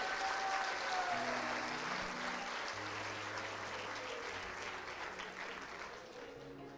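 Applause at a church gathering, a congregation clapping together in a full, even burst that gradually thins, with a sustained musical tone underneath.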